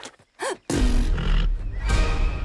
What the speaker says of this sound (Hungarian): Ez a ló, aztán Szilaj?